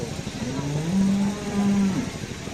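An 18-month-old heifer moos once at a livestock market in a long, low, drawn-out call that rises and holds steady before trailing off, fairly close, with no talking.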